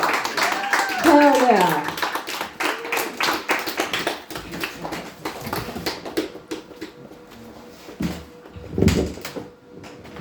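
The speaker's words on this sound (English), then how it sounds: "Please give a big round of applause for your next comic, Handsome Jack" A small comedy-show audience gives scattered, thin applause for a comic taking the stage, uneven claps close by with a brief cheer and talk mixed in.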